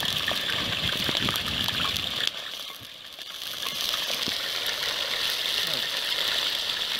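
Meat is tipped into hot oil in a sac tava pan over an outdoor wood fire, giving a loud, close gushing sizzle that dips briefly, then settles into steady frying.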